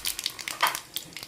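Peanuts frying in hot oil with mustard seeds, a brief crackling sizzle with sharp popping bursts at irregular intervals, no voices.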